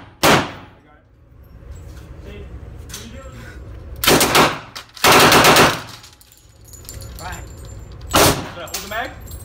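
A WWII Thompson submachine gun fires several loud, close bursts at an outdoor range, each a sharp rattling string of shots separated by pauses, with voices talking between them.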